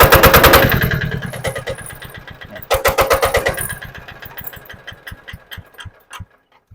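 A small Japanese multipurpose truck's engine chugging loudly up close with a rapid, rough rhythmic knock, briefly revving before tapering off and sputtering to a stop, with no talk over it.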